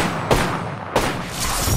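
Gunfire in an Apex Legends-style battle royale video game, with a Kraber sniper rifle mentioned, comes as two sharp loud shots about two-thirds of a second apart over a dense, steady wash of game noise and distant firing.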